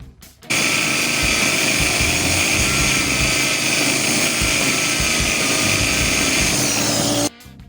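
A loud, steady mechanical grinding on a BMW X3 drive shaft universal joint roars nonstop for several seconds, starting and stopping abruptly, with no distinct hammer blows standing out.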